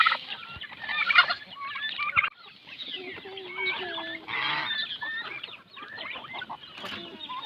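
Geese honk loudly and repeatedly on a farm, mixed with clucking chickens and other fowl in a busy, overlapping chorus at close range.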